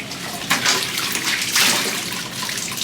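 Soapy laundry being rinsed by hand in a tub of water, with loud close sloshing and splashing surges as the cloth is pushed and churned.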